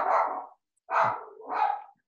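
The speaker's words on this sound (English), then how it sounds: "Dog. Sorry about that." A dog barking close by in a home during an online finance committee meeting: three loud, sharp barks, the last two close together, with no talking over them.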